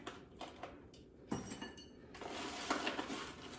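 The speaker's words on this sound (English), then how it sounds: "we're gonna take our bowl and spoon a little bit in there" Granola is spooned into a bowl with a few soft clinks and scrapes, faint and close, and a rustly pour toward the end.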